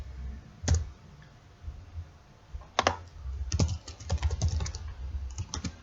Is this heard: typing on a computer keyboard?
yes